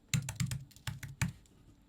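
Computer keyboard typing: a short burst of about five quick keystrokes, close and crisp, with no talking.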